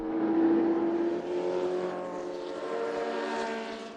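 A 1965 Ford Shelby 350 GT race car roars past at a classic Le Mans circuit, its engine note loud and sustained for a few seconds as it sweeps by without any talking.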